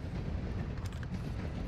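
A train in Call of Duty DMZ rumbles past, a dense, steady low roar with rattling clatter, moderately loud throughout.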